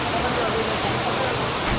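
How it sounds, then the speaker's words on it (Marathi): Dense, steady hiss of rain falling, a continuous wash of noise with no pauses. "पाऊस चालू झालाय"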